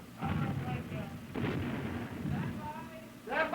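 Big guns of an Iowa-class battleship firing during the Korean War era, heard as a few loud booming blasts near 0.2, 1.4 and 3.4 seconds under steady narration, with a rumbling low background throughout.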